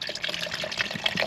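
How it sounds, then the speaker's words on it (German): Water gushes and splashes into a shaker cup holding drink powder, a close, bubbly pour lasting just over a second with no one talking. "Einfach das Pulver in den Shaker rein, mit Wasser auffüllen."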